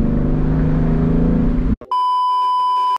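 A manual Ford Mustang GT engine drones loud and steady at full throttle on a 0-60 run, then cuts off abruptly and gives way to a sustained electronic beep tone.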